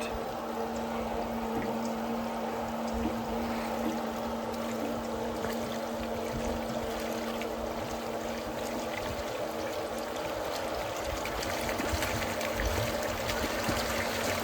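Water trickles and splashes steadily from a pool system purging air, a continuous close flowing wash with a faint mechanical hum beneath, no voices.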